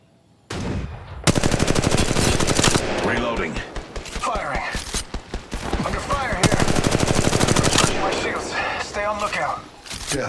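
Sustained automatic gunfire from an R-301 rifle in a first-person shooter game, dense rapid bursts firing almost continuously over roughly nine seconds, with voices talking over the shooting.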